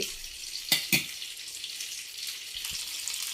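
Fish frying in a pan, a steady close hiss of sizzling oil running throughout, with two brief sharper spits early on and soft low knocks near the end.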